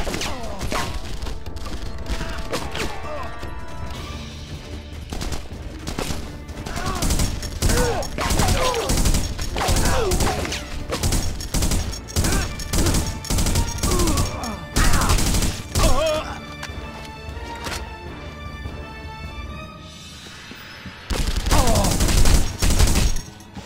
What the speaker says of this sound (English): We're shooting each other, so I'm okay with that.